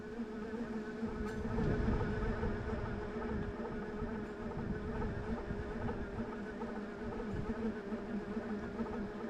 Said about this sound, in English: You can definitely hear that motor.